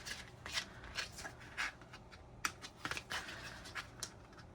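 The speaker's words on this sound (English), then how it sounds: "And we can snip these." Scissors snipping the loose string ends of a kraft-tex traveler's notebook closure, a string of quick dry crisp snips and light rustles, close and fairly quiet, with no talk.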